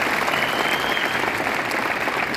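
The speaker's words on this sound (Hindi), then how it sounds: "बजाओ जोरदार तालियां।" A seminar audience applauds loudly, a dense even wash of many hands clapping at once, steady throughout with no break.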